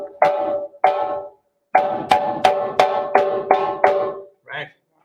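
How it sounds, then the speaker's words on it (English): Sharp slap strokes on a hand drum, struck whip-like with the fingertips: two separated hits, a pause, then six quick ringing slaps in a steady run, close and loud, with no talking. "So slap sound sounds like this."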